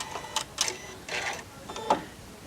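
A Janome Continental M7 sewing machine stitches quilt fabric, giving a short run of quick, close mechanical clicks and whirs over a couple of seconds, with no voices.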